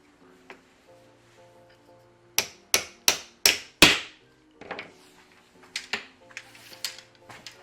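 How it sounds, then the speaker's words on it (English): A hammer drives a pin into the clip on a custom speargun handle: five sharp, close metallic strikes in quick succession, then a scatter of lighter taps. "you'll just need a hammer, your sharp clip and your pin"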